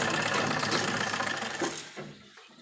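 A sewing machine stitches a strip onto fabric while making a hukka patti and kanthi. Its close, steady whirring buzz runs continuously, then tapers and stops near the end.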